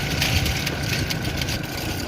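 A motorcycle engine runs with a steady, throaty mid-pitched drone as it is ridden slowly on a broken road, close by and fairly loud, with no voices.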